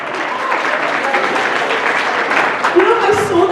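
A convention opening-ceremony audience claps and cheers in a dense, loud, sustained wave of applause, with a voice briefly rising over it near the end.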